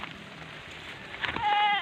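Goats being herded in a wide grassy field, with a steady wet background hiss and one wavering bleat rising clearly near the end.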